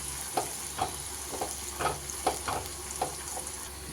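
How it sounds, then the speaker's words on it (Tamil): Spinach leaves fry in sunflower oil in a pan, a soft, continuous sizzle broken by light, regular clinks and scrapes from stirring, close and fairly quiet, with no talking. "அதில் வந்து கொஞ்சம் கொஞ்சமாக இந்த பாலக்கீரையை போட்டு அது கிறிஸ்பி ஆகிற வரைக்கும் ஃப்ரை பண்ண போகிறோம்"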